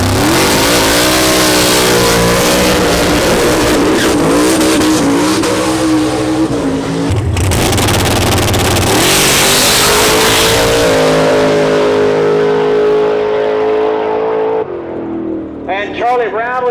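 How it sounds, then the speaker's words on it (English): Blown Pro Mod Mustang drag car launching off the starting line at the Turkey Bash 2022 drag racing event, a loud sustained roaring engine sweeping up through gears for about fifteen seconds before cutting off, with crowd or announcer voices faintly underneath. "As you're starting the Mustang off the starting line"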